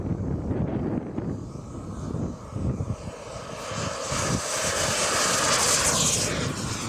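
A model turbine jet aircraft roars steadily close to the microphone, with a broad hissing whine that swells louder toward the end, along with some wind buffeting and no voices.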